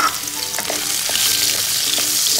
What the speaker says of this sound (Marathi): आता आपण एका पॅनमध्ये थोडेसे तेल घेतलेले, त्याच्यामध्ये आता आपण दुसरी फोडणी देऊ। मी त्याच्यामध्ये पहिल्यांदा गाजर टाकून घेणार आहे।